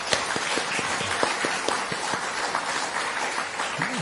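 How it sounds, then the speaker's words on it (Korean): Congregation applauding in thanks at a Korean church worship service, a dense, steady wash of many hands clapping close by, with a faint voice surfacing near the end. "감사의 박수를 지금 이 순간 힘차게 올려드리도록 하겠습니다"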